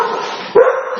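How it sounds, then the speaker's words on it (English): A dog barks once, a loud, close single woof following a brief whining tone, heard indoors. "there's the dogs for you"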